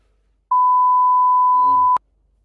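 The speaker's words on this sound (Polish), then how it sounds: "teraz mi pikać zaczęło jeszcze" A single steady electronic beep holds one clear tone for about a second and a half, loud and alone, ending abruptly.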